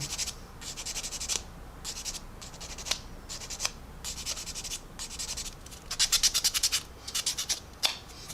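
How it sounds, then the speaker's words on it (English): Sanding sponge scrubbing a mold line off a plastic part for a 1/35 Academy AH-1Z Viper model, heard as close, quick back-and-forth rasping strokes in short bursts separated by brief pauses, with no talk. "So I'm just cleaning it off with a sponge."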